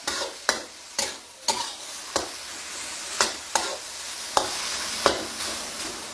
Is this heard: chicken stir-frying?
yes